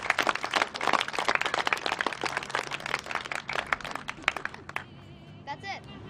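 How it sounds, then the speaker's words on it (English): An audience applauds at an outdoor Shakespeare performance of Macbeth in a park field: a few seconds of scattered, moderately loud clapping mixed with crowd chatter that dies away into quieter background sound. "Give yourself a round of applause."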